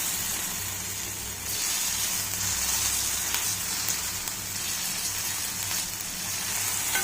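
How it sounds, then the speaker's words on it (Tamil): Marinated paneer coated in gram flour fries on a dosa tawa with a steady, moderately loud sizzle that dips briefly before resuming, with a faint scrape now and then. "இப்போ நம்ம மேரினேட் பண்ணி வச்சுருக்க பன்னீரை ஒவ்வொன்றா இந்த தவாவில் போட்டு நம்ம ஃப்ரை பண்ணிக்குவோம்."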